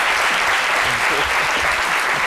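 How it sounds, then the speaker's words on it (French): Studio audience applause on a French-language midday television talk show, dense and steady clapping throughout, loud and continuous with no pauses. "Je vous demande de l'applaudir"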